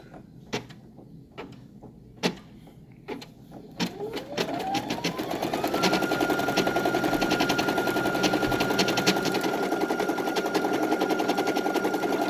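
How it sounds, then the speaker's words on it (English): A Brother PE800 embroidery machine stitching a pink design, beginning with a few separate clunks, then spinning up into a fast, steady mechanical chatter with a rising whine that settles into a constant hum. "The embroidery machine is literally doing all the work."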